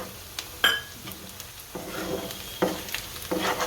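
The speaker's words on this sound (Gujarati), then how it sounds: "જરી જરી નાખીને ભેળવાનું" Flour mixed into masala pasta in a hot pan, a soft sizzle under intermittent scraping and clinking of a spoon against the pan, close by and fairly quiet.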